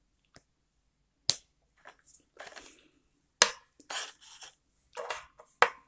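A NIVEA Labello Original lip balm with natural oils is twisted shut, giving a few sharp, close, dry clicks and brief rubbing scrapes separated by quiet pauses.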